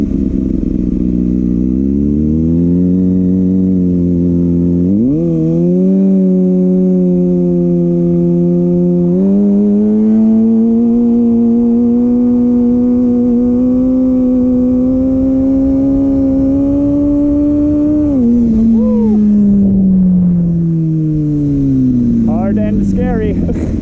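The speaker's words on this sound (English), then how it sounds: "Let's see if we can get the RPMs higher in a rolling burnout" A Kawasaki ZX6R motorcycle engine revving hard during a rolling burnout, a loud sustained high-pitched drone that climbs in steps and then drops away, very close.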